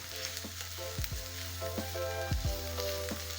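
Onions and garlic sizzle and fry in a pan, a close continuous crackling hiss broken by a few scraping stirs.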